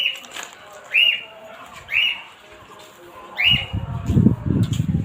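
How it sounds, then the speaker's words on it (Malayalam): Several birds chirp in short, bright rising calls repeated about three times, fairly close, followed by a burst of rustling wing flaps and movement. "ഇവിടെ കുറേ കിളികളുണ്ട്."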